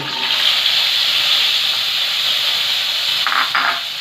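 Potatoes frying in a spice masala for a vegetarian ridge gourd and poppy seed curry, giving a loud, steady, close hiss of sizzling oil, with a brief burst of stirring near the end; no voices.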